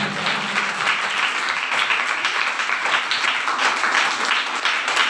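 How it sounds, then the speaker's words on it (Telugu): Congregation clapping loudly during a Sunday church service, a dense continuous rattle of many hands in close, steady unison throughout, with no talk heard. "గట్టిగా చప్పట్లు కొట్టండి"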